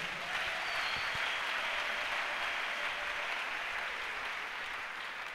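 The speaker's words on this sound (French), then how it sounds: "Acclamons le Seigneur" Church congregation at a worship service clapping together in sustained applause, a dense even patter of many hands filling the room for several seconds, with faint voices underneath.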